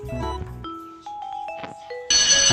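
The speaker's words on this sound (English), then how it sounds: "I think the bell just ring." A school bell ringing, several clear electronic chime tones stepping in pitch one after another, fairly close and alone with no talk.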